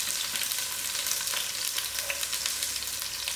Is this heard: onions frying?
yes